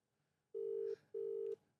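A phone keypad sounds two clear, steady dialing beeps, each about half a second long, separated by a short gap in otherwise quiet surroundings.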